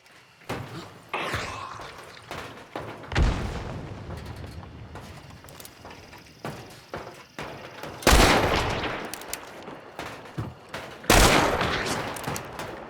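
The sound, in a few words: bomb landing close by in video game Hunt: Showdown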